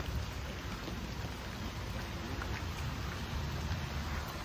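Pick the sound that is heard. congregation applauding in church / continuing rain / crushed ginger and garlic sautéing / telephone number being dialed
continuing rain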